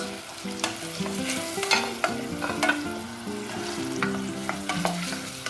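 Meat sizzles and fries steadily in hot butter and oil, with occasional utensil stirs and scrapes clinking close by.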